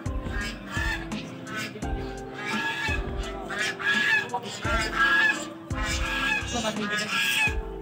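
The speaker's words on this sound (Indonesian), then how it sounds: "Dia kan anak bebek ya." A dense chorus of high, thin peeping from many young ducklings in a cardboard box at a market, chattering continuously and fairly close, with some background noise mixed in.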